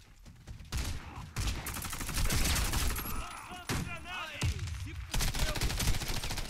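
Pistol and SMG fire rattles through a Warface match, with dense bursts and rapid volleys of shots coming in waves alongside other game effects.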